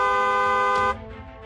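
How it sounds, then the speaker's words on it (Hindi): Car horn giving one sustained, loud, close blast of nearly a second with a rich harmonic tone, then cutting off into quieter street background. "इसलिए हॉर्न बजाएं।"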